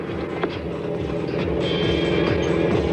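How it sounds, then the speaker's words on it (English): An IRL race car engine drones steadily as the car comes into the pit at Phoenix, a continuous low rumble that rises slightly in loudness. "Sammy, so bring it in just like you're going to hit the marks"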